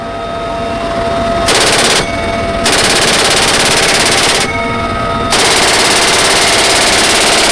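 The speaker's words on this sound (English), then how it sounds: "this was an exciting moment for me to be on board as the Marines fired off rounds" Machine gun fired by Marines from inside a military aircraft: loud sustained bursts of rapid automatic fire, three long volleys with short breaks, very close over a constant engine drone.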